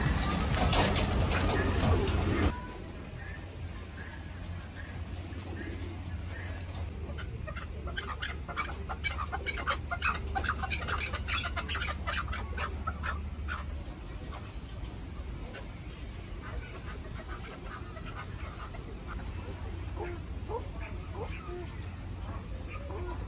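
Chickens cluck and doves coo in the background at the Central Park Zoo in Medan, Indonesia, as a person talks over them, after a brief loud burst of noise at the start.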